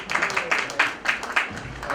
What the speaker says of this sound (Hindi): इनके लिए तालियां होनी चाहिए थोड़ा सा